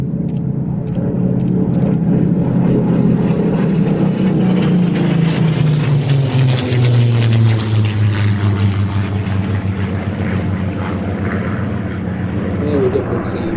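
Spitfire FR fighter reconnaissance aircraft engine running steadily and loud throughout, a continuous propeller drone whose pitch swells and sinks, with talk over it.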